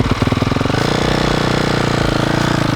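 A dirt bike engine runs with a rapid, even, pulsing putter that builds briefly after an uneven start, steady and close.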